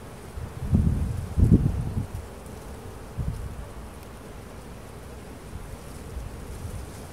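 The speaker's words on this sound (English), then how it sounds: "It's amazing what a healthy colony of bees can do." A healthy honey bee colony hums during a spring hive inspection, its buzz close and steady, with a few louder low rustles and bumps early on.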